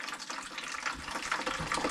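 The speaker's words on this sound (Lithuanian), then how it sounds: "kol nuo įvado išbėgs visas vanduo" Water runs and gurgles steadily out of a pipe inlet on a home water supply line that had been leaking, a continuous splashing, sloshing flow heard close up with no talking.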